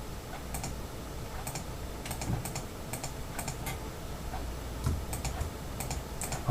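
Computer keyboard keys are pressed while editing in Photoshop, irregular clusters of quiet, close clicks and taps spread across several seconds with no talk.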